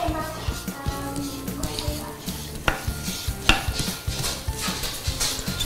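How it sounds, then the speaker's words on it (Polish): Clarified butter and breadcrumbs are stirred in a pan, with a utensil scraping and knocking against the metal in an uneven rhythm over a steady sizzle, while someone talks throughout. "Tak troszkę mieszamy do rozpuszczenia."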